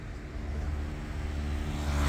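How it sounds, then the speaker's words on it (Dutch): Cars on a busy street in a neighbourhood under demolition, a low engine rumble drawing nearer and growing louder over two seconds as a vehicle approaches. "Want er komen allemaal auto's aan."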